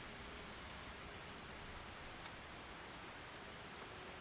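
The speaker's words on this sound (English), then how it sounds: "you can hear crickets." Crickets chirp along a back bank in fall, a steady high-pitched trill running the whole time under a constant hiss of background noise, faint and distant, with no talking.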